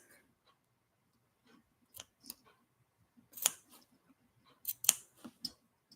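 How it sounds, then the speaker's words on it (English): Sharp scissors make about eight small snips into fabric, spaced a quarter inch apart near a sewn seam, each one a crisp close cut in a sparse, uneven sequence with quiet pauses between. "I put 1, 2, 3, 4, 5, 6, 7, about 8 little snips, about a 1/4 inch apart"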